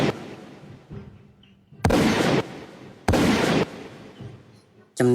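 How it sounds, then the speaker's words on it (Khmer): Gunfire in a narrated story scene: two loud, sharp blasts roughly a second apart, each ringing out for about half a second over a quiet background, with a faint rumble earlier and a final crack at the end. "ពេលនោះវឿនគេក៏បានបាញ់រះទៅកាន់សត្វខ្លាទាំងពីរក្បាលនោះ"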